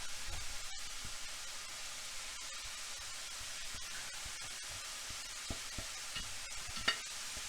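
Sausage and vegetable omelet filling with broccoli sizzles steadily in a pan, a close, even frying hiss broken by occasional soft clicks and scrapes of stirring, with no talking.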